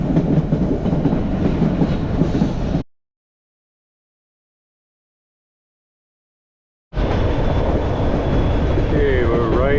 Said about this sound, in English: we're riding the White Pass Yukon train. Going back to Skagway now.